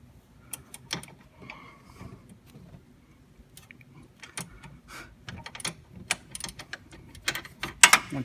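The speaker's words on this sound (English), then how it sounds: "1/4 inch ratchet with 13mm socket" A 1/4 inch ratchet with a 13mm socket loosens a bolt during a Silverado/Sierra AC condenser replacement, producing scattered close clicks and metallic clatter, sparse at first and then busier toward the end.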